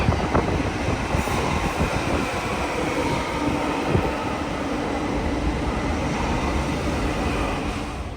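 Delhi Metro train ride, a loud, steady rolling rumble with a rushing hiss of motion that holds constant throughout, with no voices.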